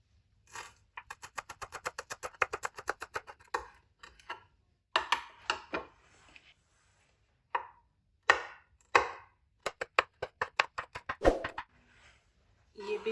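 Coriander and three green chilies chopped with a knife on a board, rapid even knocks in quick bursts separated by short pauses, close and clear with no talk over it.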